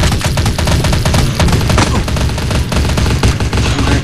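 Rapid, continuous gunfire in the shooting game Crisis Action, dense machine-gun bursts and overlapping shots filling the whole stretch, loud and close.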